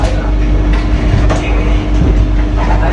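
A Vande Bharat Express slows on its approach to Durg, giving a steady, loud rolling rumble with faint wheel clatter that runs the full three seconds, heard from inside the train.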